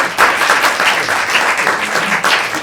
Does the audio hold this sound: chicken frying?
no